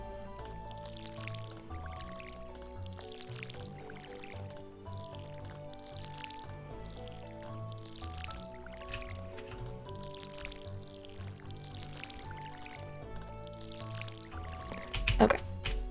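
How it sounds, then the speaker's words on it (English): Crops being watered in the Stardew Valley video game, soft repeated drip and splash sounds from the watering can over steady game music. "Now I just need to water everything."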